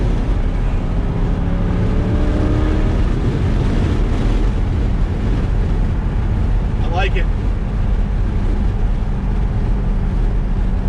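A Chevrolet C8 Corvette with an aftermarket AWE exhaust, heard as a loud, steady exhaust drone on the move under heavy wind buffeting. A short spoken comment cuts in partway through.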